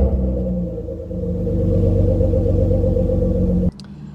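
A 1991 Audi Cabriolet 2.3E five-cylinder engine runs loud and close with a deep, steady rumble that rises as it revs. The throttle then drops off suddenly, followed by a brief crackle from the exhaust.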